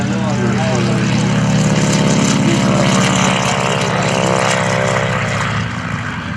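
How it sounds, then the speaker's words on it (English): A loud, droning propeller engine of a T-6 Texan hums steadily throughout, its tone shifting slightly as the aircraft comes in for a wheel landing on its main wheels, with a voice talking over it. "Flying the airplane down along the main wheels, making this sort of wheel landing"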